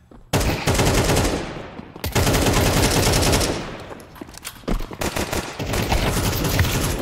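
Automatic gunfire from Counter-Strike 2 during a competitive match, loud sustained bursts with a brief pause near two seconds, then continuing with sparser shots and renewed rapid fire.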